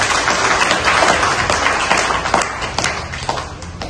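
A crowd claps in welcome for teacher Lawrence at the AKMHS Poyya 1989 SSLC batch school reunion, a dense, steady round of applause with a few sharper individual claps standing out.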